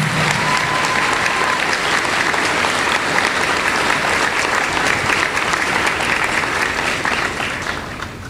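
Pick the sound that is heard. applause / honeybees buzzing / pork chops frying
applause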